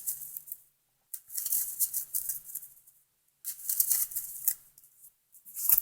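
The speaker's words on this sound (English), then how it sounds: "Go ahead and shuffle" Two bursts of rapid, crisp riffling as a deck of trading cards is shuffled close by, with a brief pause in between.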